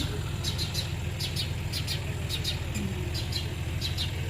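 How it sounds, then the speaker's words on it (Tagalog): Small birds chirp from a rooftop on a rural farm, short bright tweets repeating in clusters over a steady low engine hum from nearby machinery, fairly faint against the background. "O, ang ingay ng ibon na."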